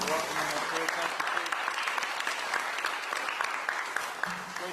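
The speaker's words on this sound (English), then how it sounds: "How about a big round of applause for Chief Ray Reynolds one more time for welcoming us here." A crowd applauds a fire chief at a gathering in Nevada, dense continuous clapping from many hands filling the room, with faint voices underneath and a slight swell near the end.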